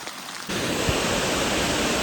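Heavy rain on the walking route to Vaishno Devi sets in as a dense, steady hiss after a brief quieter moment, continuing loudly and evenly to the end.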